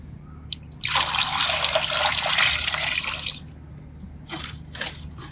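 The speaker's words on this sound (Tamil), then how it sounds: "இப்போ இதில் வந்து சம பங்கு நான் தண்ணி ஊற்றிக்கிறேன்." Water pours steadily into an organic fertilizer mix for a few seconds, a loud close splashing gush, followed by a pause and a couple of shorter trickling pours.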